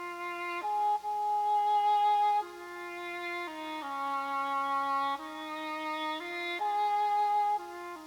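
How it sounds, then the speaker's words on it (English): The Going Home theme from Dvořák's New World Symphony unfolds as a slow, simple melody of long held notes, moderately soft and steady, heard alone without speech. "It's a folk song that Dvořák came up with on his own that later got a title put to it called Going Home"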